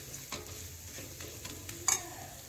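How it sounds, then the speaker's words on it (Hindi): A spoon stirs a spiced mashed potato mixture for sandwich filling in a pan, giving soft scraping and light sizzling with a few sharper clinks, quiet and close with no talk. "फिर आलू को भी इसमें मिक्स कर देंगे।"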